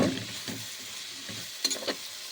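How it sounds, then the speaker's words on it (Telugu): Broad bean pieces and cauliflower stirred into fried onions in a pan, giving a soft continuous sizzle with a few scraping stirs and a brief clink, close and moderate in level, no voices. "ఇప్పుడు చిక్కుడు ముక్కలు కాలీఫ్లవర్ వేసేసుకుని ఒక్కసారి కలిపేసుకోవాలి"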